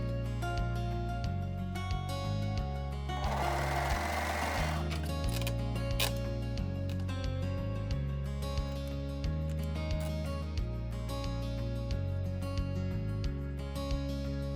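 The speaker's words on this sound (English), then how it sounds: "stitch the side seams using an overlocker or a sewing machine" A sewing machine hums while stitching side seams of a tank top, under steady background music, with a brief burst of louder rushing noise early on.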